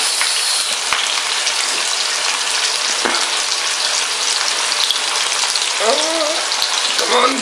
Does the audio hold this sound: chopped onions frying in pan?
yes